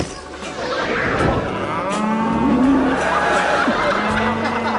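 Cows mooing, a drawn-out bovine low rising into a wavering call, fairly close and loud over a busy background with light laughter.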